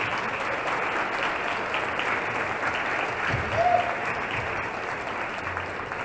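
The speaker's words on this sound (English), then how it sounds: "let's give them a big round of applause for all of this." An audience at the Emmy Awards gala applauds, a steady even wash of clapping sustained from start to finish at moderate distance, with no clear voices rising above it.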